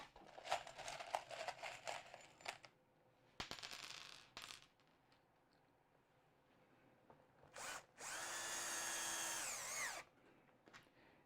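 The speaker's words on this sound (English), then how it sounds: "let's put a couple of screws in" Power drill driving a couple of screws into a mould for a resin pour, heard as several short bursts early on and one long, loud sustained whir near the end, with quiet handling noises between.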